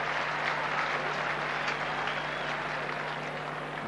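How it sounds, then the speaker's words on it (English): Football crowd at the MCG applauding a good play in a 1990 AFL match between Melbourne and Essendon, a steady, dense wash of distant clapping and cheering from the whole stadium, with no voices standing out. "he gets the plaudits of the whole crowd"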